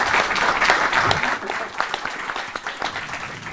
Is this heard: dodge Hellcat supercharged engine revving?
no